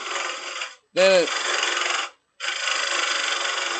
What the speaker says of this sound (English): Now we're going to use this different kind of carbide. And this one cuts the wood more than